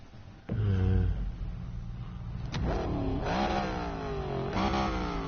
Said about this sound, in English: I just like the way this car sounds.